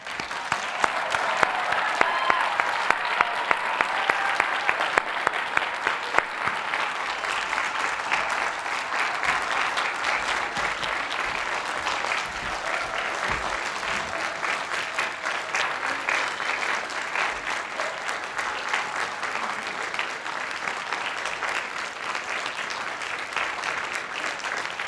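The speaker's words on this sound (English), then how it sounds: "Will the candidates stand so we may give them a final round of applause?" Sustained applause from a seated audience for PhD candidates standing at a Columbia graduate school commencement ceremony, a steady dense patter of many hands clapping for the full length, slightly stronger at the start.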